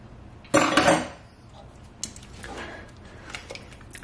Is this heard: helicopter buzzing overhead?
no